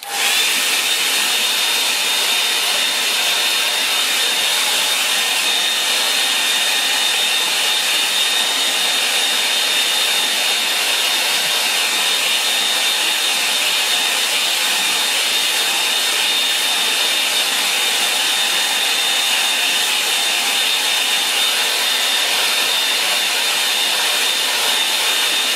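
A hair dryer blows on a wet landscape painting, a loud, unbroken high-pitched whine and rush of air that runs steadily throughout with no voices over it.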